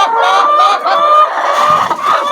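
Chickens at a poultry farm crowd around a broody hen, giving loud, close, overlapping clucks and squawks in a continuous noisy chorus, with no talking.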